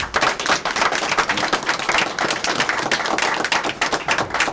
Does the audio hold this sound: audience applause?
yes